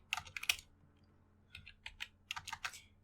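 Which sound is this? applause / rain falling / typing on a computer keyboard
typing on a computer keyboard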